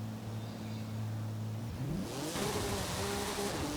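Car launching from a standstill at full throttle in Forza Horizon 5, a wheelie build: a steady low engine drone gives way to a rising rev with gear-shift sweeps, loud and continuous with no talk.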